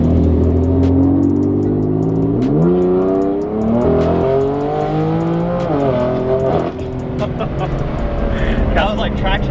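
A track-prepared BMW M4 GTS accelerates hard on a street under traction control, the engine note climbing through rising revs with a couple of shifts, loud and close from inside the cabin, with a voice briefly heard near the end.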